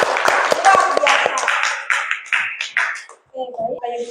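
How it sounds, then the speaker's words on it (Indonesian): Students in a classroom give a brief burst of hand clapping, a quick run of sharp, separate claps that soon thins out, followed by someone speaking. "Tepuk tangan untuk kelas 75."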